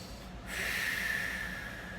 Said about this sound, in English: Take 3 deep breaths every day.